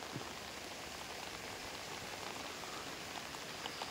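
Steady rain pours down during an evening fish-netting outing, a dense, even hiss of drops on surfaces that holds constant throughout with no voices.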